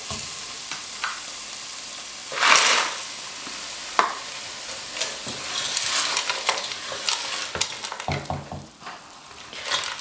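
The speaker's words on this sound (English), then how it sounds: "So I'm just going to add our vegetables to it." Vegetables for bhujiya stir-frying in a hot pan, a steady close sizzle broken by scraping stirs and occasional clinks of the utensil against the pan.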